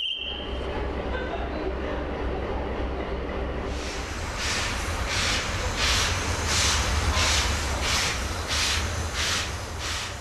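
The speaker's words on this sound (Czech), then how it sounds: "Slavnostní vlak vyjíždí z Teplic do Louky u Litvínova" A ceremonial steam train pulls away from Teplice, rhythmic chuffing bursts of exhaust starting up and repeating steadily over a low rumbling background.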